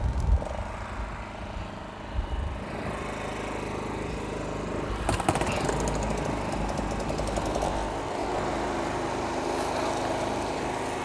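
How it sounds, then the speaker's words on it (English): A Generac GP3000i portable inverter generator engine runs steadily nearby, a constant low droning hum with a brief rattling surge midway, continuous and moderately loud throughout. "Let's get the generator started."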